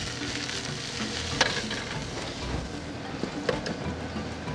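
Shallot and garlic gently sweating in a little butter in a pan, a steady soft sizzle filling the whole stretch with a couple of faint clinks.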